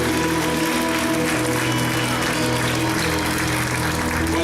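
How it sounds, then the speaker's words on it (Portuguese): Congregation at a Portuguese-language church service clapping loudly for Jesus, a dense, sustained roar of applause with a steady organ-like tone underneath, continuous and loud throughout. "Aplauda bem alto ao Senhor Jesus."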